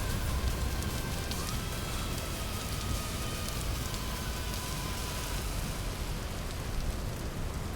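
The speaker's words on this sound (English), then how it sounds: "Is it hailing? Is that hail?" Hail patters steadily in the Vintage Story game world, a dense, even hiss of falling ice with no breaks and no voices.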